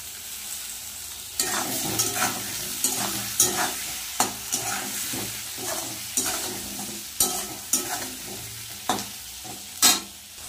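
Chopped tomatoes stirred and sizzling in a frying pan for a Bengali fish curry with potato and eggplant; close, rhythmic spoon scrapes and clatters repeat every second or so over a steady frying hiss, with no talking.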